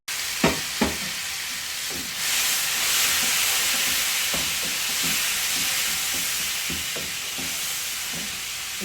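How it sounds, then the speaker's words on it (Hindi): Two tablespoons of garlic paste sizzle in a pan for a chicken handi, a steady loud hiss rising after a couple of sharp clinks, with scattered spoon taps against the pan throughout. "इसको 10 से 15 सेकंड के लिए फ्राई कर लेंगे।"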